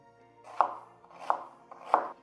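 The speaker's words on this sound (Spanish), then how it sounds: "Nos vamos a picar la cebolla ya para las verduras de nuestro chilindro" An onion is chopped finely with a knife on a board, three distinct knife strokes at a steady rhythm, close and clear with no talking.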